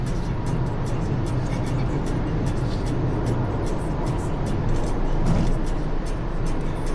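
Toyota Vios driving on the SCTEX expressway, heard from inside as a steady, loud road and engine drone with tire rumble and wind noise, continuous at cruising speed.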